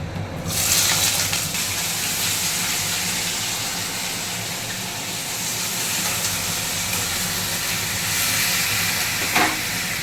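Potatoes are added to a kadai of hot oil tempered with nigella seeds. A loud, continuous hiss and sizzle holds steady for about ten seconds with no talking.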